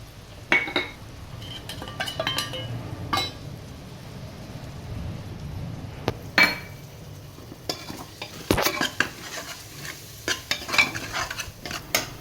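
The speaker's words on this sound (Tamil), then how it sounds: "இஞ்சி பேஸ்ட்டு, மல்லி இலை வதக்கிடுவேன்" Ginger paste and coriander leaves being sautéed with tomato for mutton salna, with intermittent scraping and clinks of a spoon stirring against the pan over a soft background sizzle, close and fairly quiet.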